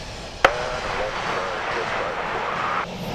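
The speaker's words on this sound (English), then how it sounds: "We have Boeing 737 backtracking runway 28 for departure westbound" A Boeing 737 jet taxis on runway 28 at Sint Maarten airport, a steady engine roar with a broad whine holding throughout after a sharp click at the start.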